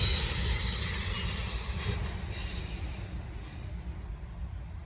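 A Norfolk Southern freight train hauling six locomotives and no DPUs rolls past, a loud, steady rumble of wheels and cars with a high metallic squeal that slowly fades.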